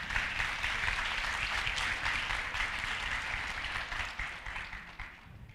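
A crowd claps for the speaker's wife, a sustained round of applause from many hands that holds steady and then tapers off toward the end.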